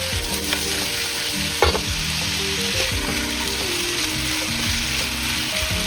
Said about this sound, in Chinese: 然後我們把這些小料扔裡頭，跟它一起炒會兒。